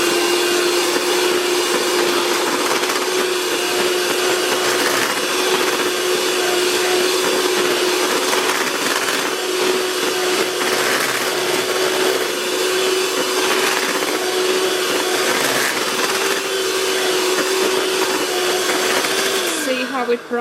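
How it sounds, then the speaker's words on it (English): A steady electric mixer or blender whirs continuously at close range while DIY Lush-style bath bomb ingredients are mixed, holding a constant hum for about twenty seconds before cutting off abruptly at the end. "Give that a mix."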